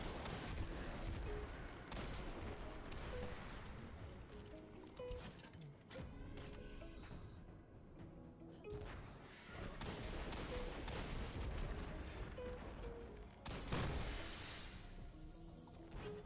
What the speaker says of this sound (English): We're just going to stun the ogre, kill it with rockets, and finish off the rest of the enemies that are here.